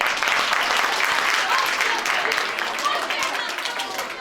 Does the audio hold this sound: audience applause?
yes